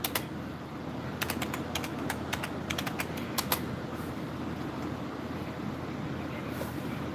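Someone types on a computer keyboard, a few quick bursts of close key clicks early on over a steady low hum, then the keys fall silent.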